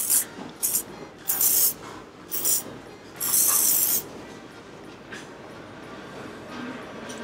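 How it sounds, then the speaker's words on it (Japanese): Hair spray misted at the roots during a hair styling session, several short hissing bursts of varying length, one longer spray near the middle, close and fairly loud over a quiet background. "根元にスプレー"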